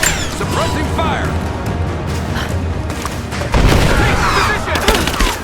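Sustained gunfire rattles through a firefight in Rise of the Tomb Raider, loud repeated shots and bursts mixed with crashing impacts, growing heavier partway through while voices shout over it.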